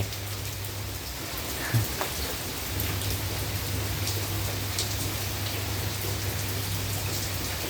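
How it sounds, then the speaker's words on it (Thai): Steady rain pours down, hissing evenly on surfaces with a low hum underneath, continuous throughout. "ฝนก็ตก โอ้ย ตอนเย็นจะตกไหมเนี่ย"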